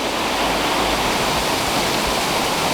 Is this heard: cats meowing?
no